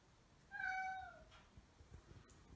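A male cat meows once, a drawn-out complaining cry, close and clear in a quiet room, followed by faint background rustling.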